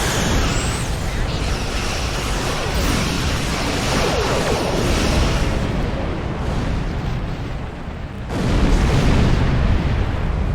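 A spread of photon torpedoes fired at a Borg cube in the game Star Trek Online, a dense, continuous roar of weapon fire and blasts that runs loud throughout, dips briefly, then surges again.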